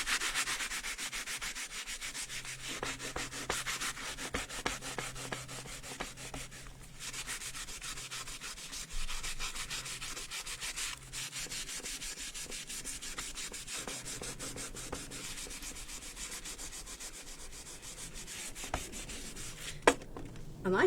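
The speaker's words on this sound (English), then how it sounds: "sandpaper." Sandpaper rubbing over a diorama piece coated with antiquing paint remover on a wooden house shelf, a steady continuous scratchy sanding close up for the whole stretch, with no talk.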